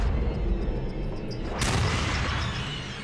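A loud blast bursts out about halfway through gunfire in the horror game Until Dawn, after a stretch of steady game rumble and ambience, followed by lingering noisy reverberation.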